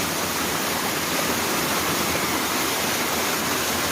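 A river current rushes in a steady, loud broadband roar of flowing water, close and unbroken throughout with no talking.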